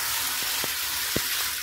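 Lukewarm water is poured and mixed in a basin to prepare a foot or body soak in a home-care setting. There is a steady watery hiss with a few soft splashes and sloshes.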